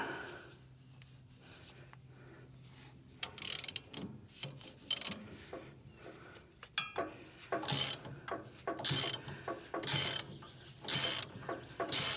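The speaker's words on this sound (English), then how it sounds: "what I want to do is I want to loosen one of these springs" A spring is loosened on a heavy duty tractor flail mower, with close metallic ratcheting clicks and clanks coming in irregular bursts over a quiet background.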